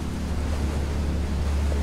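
Sea swell in the rescue-boat game Ship Simulator: Die Seenotretter produces a steady, loud wash of waves and wind noise, a continuous rushing surf with no breaks.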